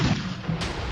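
Tank shells fire in a video game, heard as a couple of dull, booming thuds close together within a second, low and muffled rather than sharp.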